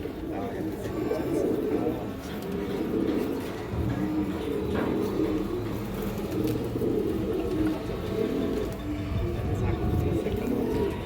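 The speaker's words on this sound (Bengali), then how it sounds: "মোটা নাকের কবুতর। এগুলো কিন্তু দর্শক পুরান কবুতর আর কি।" Large, thick-nosed pigeons of an old breed coo at a pigeon farm. The low cooing is close and rolls on continuously, several birds overlapping throughout.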